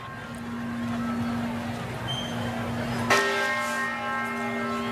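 Church-type bell ringing in Philadelphia, identified as the Liberty Bell, one clear struck tone at about three seconds with a long sustained hum, over steady background ambience.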